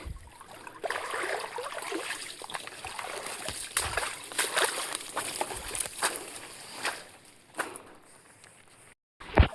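River water running swiftly downstream during crab fishing with a net, a rushing, splashing flow with sloshing bursts, fairly close and steady, ending in a short gap and a final splash.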